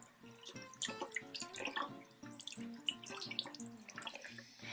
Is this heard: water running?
yes